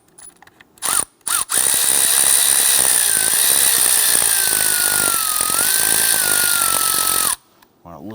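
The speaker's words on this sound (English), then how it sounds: "Now I want to remove that cam sensor using a T30 Torx bit." A power driver with a T30 Torx bit backs out the cam sensor screw on the valve cover of a 2011-2021 Jeep Grand Cherokee 3.6L V6, giving a loud, close, sustained whine of about six seconds after a couple of brief starts.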